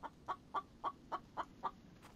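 Chicken in The Infected video game clucking in a steady series of seven short, evenly spaced clucks, fairly close and clear, with no talk over it.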